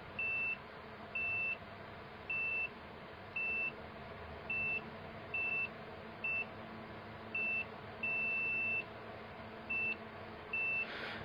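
A homemade neutral sensor plate on a Honda CB/GL/MegaPro/Tiger motorcycle triggers a high electronic beep: about a dozen short, even tones repeat roughly every second, with one longer beep near the end, over a steady low hum.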